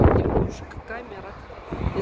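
Strong wind buffeting a handheld microphone on a Moscow bridge overlooking the river, low rumbling gusts across the whole moment, mixed with traffic noise.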